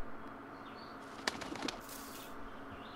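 A bird beats its wings in a flurry of flaps in the video game A Bird Story, over a quiet ambient game soundtrack, with no voices.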